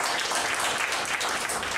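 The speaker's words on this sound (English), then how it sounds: "give a round of applause" A short burst of dense audience applause at a corporate panel discussion, continuous and fairly loud across the whole moment with no pauses.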